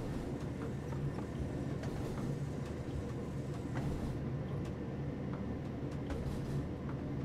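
Train running on the Niddertalbahn in Train Sim World 3: a steady, close rumble of wheels and carriage with faint rhythmic clicks throughout, no talk.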